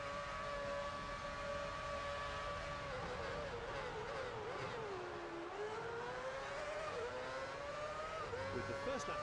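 A Ferrari Formula 1 car in a racing video game screams at high revs, its engine pitch sweeping down and climbing again as it shifts through the lap, sustained and steady while a voice talks over it.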